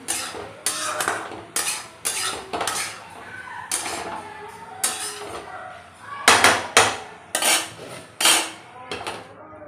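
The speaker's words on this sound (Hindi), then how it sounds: "बीच बीच में चलाना पड़ता है।" Mixed vegetables stirred in a pan with a metal spoon: a string of sharp, close clanks and scrapes against the pan in irregular bursts, loudest near the end, no talk.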